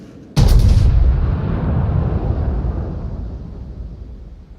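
Battleship artillery firing in a naval combat video game: one sudden, loud, booming salvo whose deep rumble rolls on and fades slowly over several seconds, with no talking.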